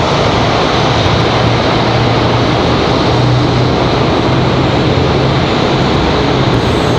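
Jet engines of a fairly new Frontier airliner at an airport, a dense, steady roar with a low droning hum, loud and unbroken throughout, with no talking.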